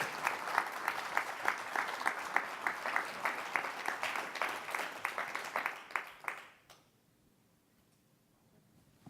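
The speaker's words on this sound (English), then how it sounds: "let's give them a round of applause" An audience at a fireside chat event gives a round of applause, a moderate room-filling patter of many hands with rhythmic clapping accents, lasting several seconds before stopping abruptly into near silence.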